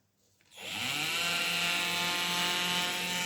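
Electric drill switched on after a brief quiet moment, spinning up quickly into a loud, steady high-pitched whine that holds for a few seconds, close by, with no speech.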